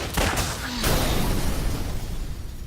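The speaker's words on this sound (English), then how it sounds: "You died in that explosion too, remember?" Explosion in a video game: a few sharp bursts open the sound, then a heavy, loud rumbling blast rolls on and slowly fades, with no voices.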